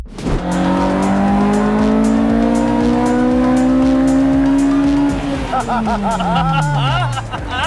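A modified Honda Civic engine revving hard up toward 9,000 RPM, a loud steady climbing howl that peaks then drops away as revs fall, with voices in the car underneath.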